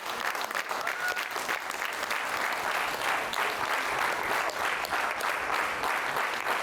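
Steady, loud applause from a theatre audience greeting the actors and creative crew on stage, continuous clapping with crowd noise throughout.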